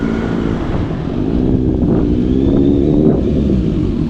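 A Kawasaki Z900 motorcycle idles and revs with a deep, throaty exhaust rumble, loud and close, holding a steady engine tone with slight rises, no talking over it.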